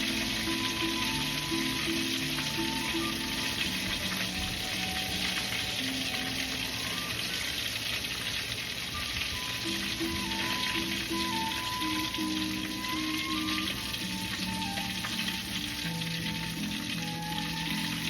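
Chicken pieces fry in oil for a crispy chicken dish, a dense, loud, unbroken sizzle and bubbling crackle that holds steady throughout with no talking.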